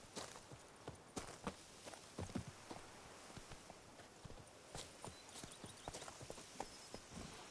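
Horse hooves clip-clopping in a PS4 video game, a steady walking rhythm of crisp, distinct hoofbeats over a soft ambient bed, fairly quiet and without talk.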